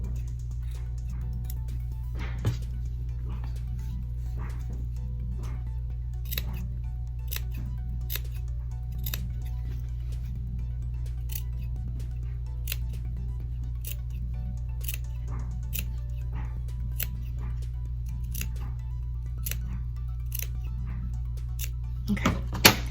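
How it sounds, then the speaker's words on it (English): Sharp scissor snips through fabric cut around a curve on a no-sew face mask, scattered single cuts spread across the stretch over a steady low hum, fairly close and moderately faint. "couple of snips around this curve before you turn it inside out"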